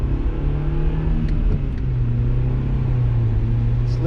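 A 2009 Nissan Cube with a six-speed manual transmission rumbles steadily from inside the cabin, its engine droning low and revving slightly throughout, with faint clicks along the way.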